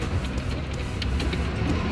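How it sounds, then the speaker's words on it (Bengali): A Nagaland State Transport bus pulling out of Dimapur on the road to Kohima, heard from inside as a steady low engine rumble with constant road noise and no talking. "বাস ছেড়ে দিয়েছি, এখন কোহিমার পথে যাচ্ছি"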